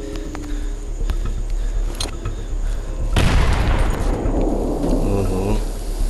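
Gunfire in the mobile zombie shooter Into the Dead 2 erupts as a loud, sustained burst of shots and booms over a steady game background drone, with a quieter stretch before it.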